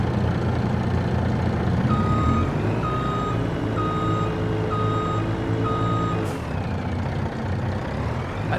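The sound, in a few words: truck reversing beeps in video game Farming Simulator 25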